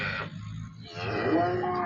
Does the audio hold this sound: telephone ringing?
no